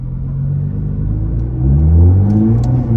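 A Nissan R35 GT-R driving on a mountain road, its engine a loud, deep, steady rumble heard from inside the car that swells slightly as it pulls, with no talking.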